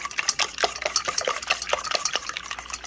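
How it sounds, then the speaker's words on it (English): A small whisk beats a dozen farm eggs in a bowl, with quick rhythmic clicking and scraping strokes against the bowl, close and clear with no talking. "So I'm going to take the little whisk and whisk this up."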